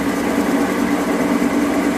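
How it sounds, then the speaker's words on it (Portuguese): A metallographic grinding machine sands a material sample on abrasive paper, giving a steady, continuous mechanical whir with a constant hum and no pauses, fairly loud and close throughout. "E também eu fico aqui de 5 a 10 minutos lixando esse material."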